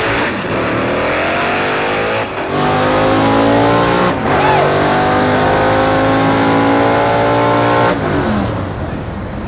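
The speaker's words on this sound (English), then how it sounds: "if you watch him bring the car up to the starting line, going to see how that big Hemi runs" A Hemi-powered drag car launches hard down a drag strip, its big engine roaring loud and close and banging through the gears with brief breaks between shifts, then the sound thins as the car pulls away.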